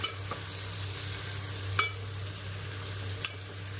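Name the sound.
country chicken with salt being stirred in oil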